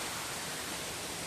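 Tabag Falls gives a steady, broad rush of falling water that fills the short stretch evenly and loudly, with no talking.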